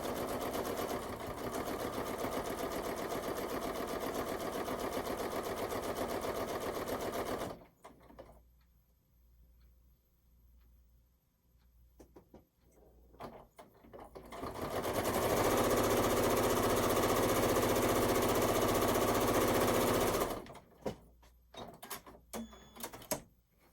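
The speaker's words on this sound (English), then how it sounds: "I just use the edge of the presser foot as my guide and sew that onto the bottom." A sewing machine stitching a quarter-inch seam on a quilt panel with an extra layer of batting, running in two long steady whirring stretches separated by a quiet pause with soft handling noises, close and alone.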